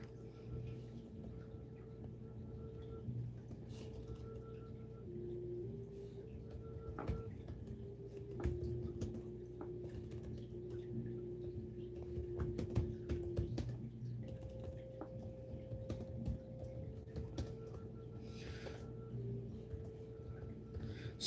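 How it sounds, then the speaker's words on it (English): Soft keyboard typing ticks along quietly in scattered bursts of key clicks over a low steady hum, with no voices. "I'll type it how to find me"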